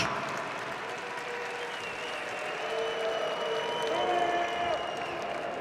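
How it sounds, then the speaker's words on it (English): Polite applause mixed with a few scattered boos from an MMA crowd in Tatarstan after a unanimous decision is announced, a steady wash of clapping that swells slightly near the end, with a voice speaking over it. "Polite applause and a few boos"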